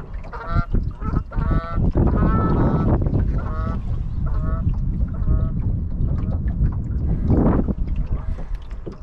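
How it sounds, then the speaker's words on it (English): A flock of Canada geese honking repeatedly, overlapping calls over a steady rumble of water and a sailboat moving along on a lake. "Canadian geese."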